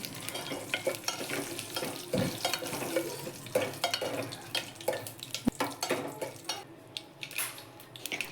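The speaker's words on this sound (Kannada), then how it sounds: "ಒಣಮೆಣಸಿನ್ಕಾಯಿ ಹಾಕಿ ಚೆನ್ನಾಗಿ ಮಿಕ್ಸ್ ಮಾಡ್ಕೊಳ್ಳಿ." Dried red chillies stirred into a sizzling oil tempering for a Kannada-style dal rasam, with steady frying crackle and scraping stir strokes against the pan, close and continuous with no talk.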